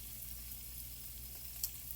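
Onions and peppers fry in a pan with a steady, quiet sizzle. The hiss stays even throughout, with one brief sharper crackle near the end and no voices.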